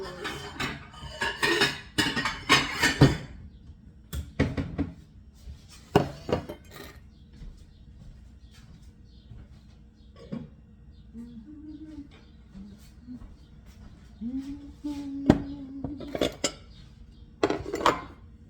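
Plates and dishes handled in a home kitchen while making veal cutlets: clusters of close ceramic clinks and clatters come in bursts, separated by quieter stretches with faint background chirps.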